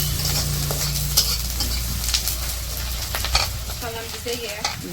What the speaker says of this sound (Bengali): তেল তো দিয়ে দিচ্ছে এখন দিচ্ছে এই যে কড়াইয়ে পেঁয়াজ আর কাঁচামরিচ দিয়ে দিল